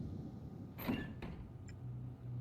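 A door opens inside a video game with a short mechanical slide and clunk, heard on its own over a steady low game hum, with a faint click following.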